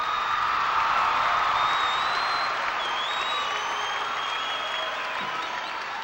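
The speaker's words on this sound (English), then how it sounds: "Why don't you all give yourselves a clap or a cheer" A sustained roar of applause and cheering from the crowd at a 1982 high school basketball state championship final. It is loud and even throughout, with faint whistles on top and no clear talking.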